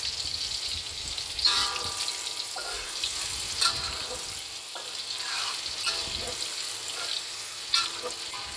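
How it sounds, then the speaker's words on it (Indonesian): Onions sautéing in a hot pan with a steady, loud, close sizzle throughout, broken by occasional scraping stirs of a utensil, no voices. "Kita tumis bawang teman-teman."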